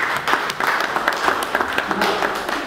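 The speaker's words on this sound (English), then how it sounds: "Can we give a round of applause to Mr." Applause from the audience at a Startup Grind Banjul business event for Mr. Abdurrahman, a short burst of dense clapping, fairly close and loud, carrying on evenly to the end.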